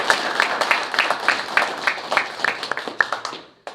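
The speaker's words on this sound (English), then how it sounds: "let's give Ben a round of applause" Room audience at a local roads workshop claps for a speaker, a modest round of distinct, fairly rhythmic hand claps that thins out and stops near the end.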